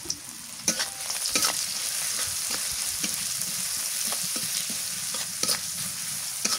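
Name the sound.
frying onion and bay leaf in oil, stirring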